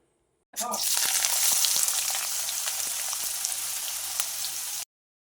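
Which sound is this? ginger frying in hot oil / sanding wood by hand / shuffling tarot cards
ginger frying in hot oil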